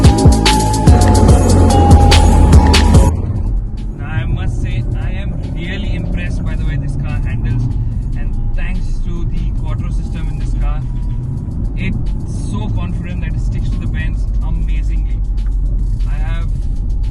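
An all-new Audi RS5 Sportback drives on the road, its engine and tyre noise a steady loud drone inside the cabin, with a louder burst at the start.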